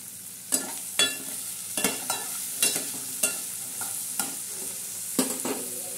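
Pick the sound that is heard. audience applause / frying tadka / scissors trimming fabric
frying tadka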